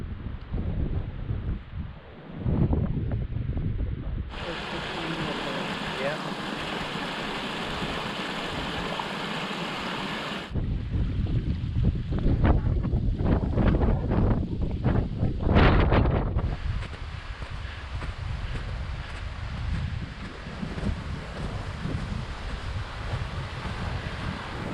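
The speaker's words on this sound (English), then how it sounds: "it is super windy" Strong gusts buffet the microphone on a snowy mountain hiking trail in Waterton, a steady roaring rush with surges and dips and no talk.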